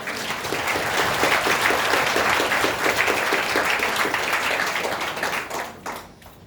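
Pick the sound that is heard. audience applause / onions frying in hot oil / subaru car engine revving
audience applause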